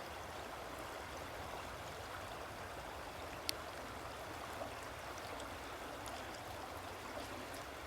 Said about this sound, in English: that's a lot of water coming through here, huh?